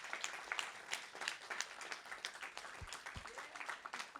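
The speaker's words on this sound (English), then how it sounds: "please stand up so that we can acknowledge you and also give you a round of applause" An audience at a talk on justice and life after jail claps, a moderately faint, irregular patter with scattered louder claps and a couple of low thumps.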